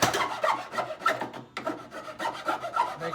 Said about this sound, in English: I'm rasping the edge.